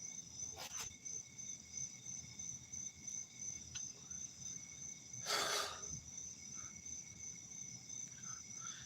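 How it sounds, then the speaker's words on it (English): A cricket chirps faintly and continuously in the background, a thin, steady trill under a quiet room, interrupted by a short rustling burst near the middle. "That cricket chirping in the background has paid for its crimes."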